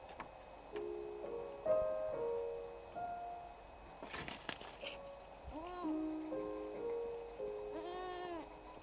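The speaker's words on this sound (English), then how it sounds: "And then we got some goats." Goats on a small farm call with several drawn-out, wavering bleats spread over several seconds, at moderate distance under a steady background hiss, with no talk.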